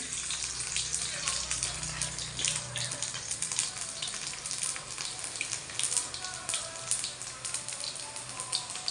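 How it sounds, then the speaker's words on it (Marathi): Mustard seeds, cumin and garlic sizzle and crackle in two spoons of hot oil in a kadhai while tondli bhaji is being cooked, a steady close frying hiss dense with tiny pops. "मोहरी तडतडली की लसूण टाकून घेऊ"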